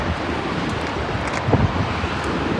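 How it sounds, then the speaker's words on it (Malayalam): Strong coastal wind buffets the microphone at the Twelve Apostles on the Indian Ocean near Melbourne, a steady loud roar with a brief gust swell midway and no speech. "ഇവിടുത്തെ ശക്തമായ കാറ്റ് കാരണം ഞാൻ പറയുന്നത് ഒന്നും തിരിയുന്നില്ല, എൻ്റെ വോയിസ് എല്ലാം കാറ്റ് കൊണ്ടുപോയി"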